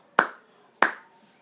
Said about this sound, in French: Je sens que je suis le seul à avoir applaudi.